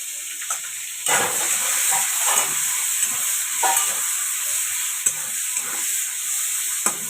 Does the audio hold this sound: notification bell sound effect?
no